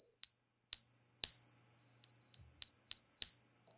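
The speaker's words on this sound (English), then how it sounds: "over here we got finger cymbals." Finger cymbals sampled in an Ableton Live drum rack ring out in eight bright metallic strikes at varying loudness, each with a sharp attack and a long shimmering decay, played alone in a loose rhythm.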